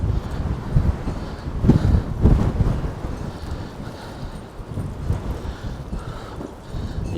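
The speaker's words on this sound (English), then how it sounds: "it's extremely windy and gusty this is today." Gusty wind sweeps across a caravan and motorhome club site in Cheddar, rumbling against the microphone in uneven surges that swell and ease with no one speaking.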